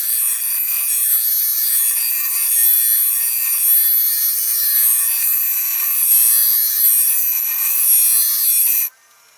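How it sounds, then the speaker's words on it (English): A bench grinder sharpening a lawn mower blade produces a continuous harsh, high-pitched grinding hiss that holds steady for several seconds and then cuts off sharply. "Whenever you use the bench grinder, you want to use the shelf that they have set up for you"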